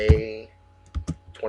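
A few sharp keystrokes on a computer keyboard while entering text into an Excel spreadsheet, spaced irregularly near the end after a short stretch of a voice speaking.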